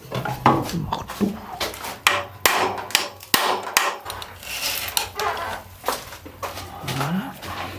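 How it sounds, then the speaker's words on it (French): Hammer strikes on the rusty wheel of a 1980s Dany Cross 3000 under restoration, a rapid series of sharp metallic knocks mixed with clinking and scraping, close by. "Marteau."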